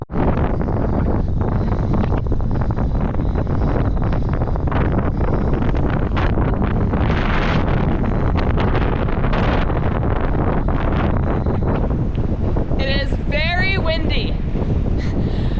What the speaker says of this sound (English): Very windy on day one of the Otway Rip. Mostly headwinds.